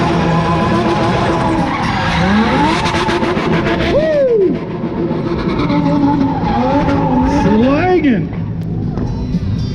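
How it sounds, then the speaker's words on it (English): Tires skid and squeal loudly in repeated swooping bursts during a drifting display in the Hoonigan zone at the 2021 SEMA Show in Las Vegas, with engine roar and a crowd hubbub underneath throughout. "car started making weird noises"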